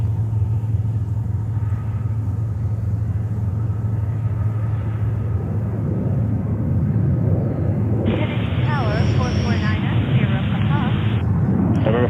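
A Boeing 777 freighter passing overhead at JFK Airport in New York, a steady low rumbling roar that holds throughout, with a radio voice breaking in over the engine noise toward the end.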